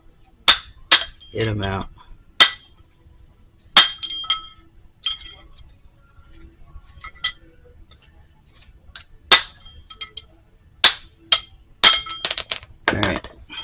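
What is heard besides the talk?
brass punch struck with hammer on '49 Chevy king pin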